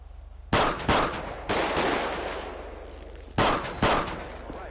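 Video-game gunfire from a shootout in GTA V with the LSPDFR police mod, set in Paleto: five loud, close bursts of shots, two in quick succession early on, then a lull, then two more near the end, with reverberant tails between.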